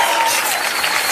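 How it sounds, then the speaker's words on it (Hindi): An audience at a comedy show applauds in a dense, loud wash of clapping that holds steady for a short burst. "जोरदार तालियां रानी जी के लिए।"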